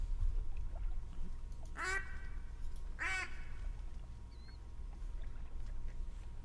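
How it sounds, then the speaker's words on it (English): Two loud, raspy duck quacks a second apart, likely from a duck call, over a steady low rumble of wind and water in a duck hunt in The Hunter: Call of the Wild, with no voices. "So go ahead and see if you can't call some of these ducks in."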